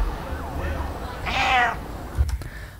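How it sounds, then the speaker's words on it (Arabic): A cat meows once, loud and near, with a drawn-out wavering cry in the middle of a slowed-down video clip, then brief clicks and thumps follow. "هون في أول شي مواء هون"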